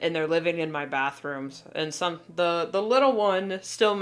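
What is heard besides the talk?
No everyday noises stand out.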